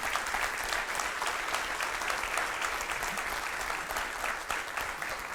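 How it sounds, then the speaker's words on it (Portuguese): A church congregation applauds during a sermon, a sustained wash of clapping from many hands, steady and fairly full, heard alone without talk. "quer aplaudir? Pode fazer isso."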